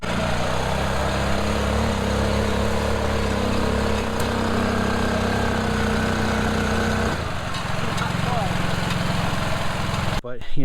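A homemade two-wheel-drive quad truck built from an ATV idles steadily with a low, even engine drone that shifts in tone partway through, close and continuous, ending in a brief knock.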